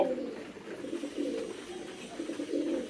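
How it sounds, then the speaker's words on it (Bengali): King pigeons coo in a steady, low rolling murmur close by, several birds overlapping in repeated throaty calls throughout. "আমাদের কিং কবুতর এই যে দেখেন"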